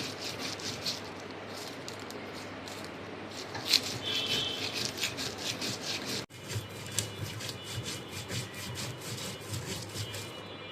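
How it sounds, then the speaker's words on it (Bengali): Dried chili and garlic ground by hand on a flat grinding stone, a steady close rubbing and scraping that runs throughout with repeated gritty strokes, briefly interrupted near the middle. "আর আমি শুকনা মরিচ আর রসুনটা একটু ভালো করে বেটে নেব।"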